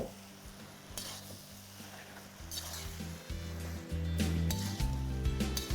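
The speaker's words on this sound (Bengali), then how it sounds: "এবার হাই ফ্লেমে এই সব কিছুকে আপনাদের ভালো করে মিশিয়ে নিতে হবে।" Chicken chow mein tossed and mixed over a high flame, with scraping, clattering stirs and a soft sizzle that grow louder toward the end, over a low steady hum.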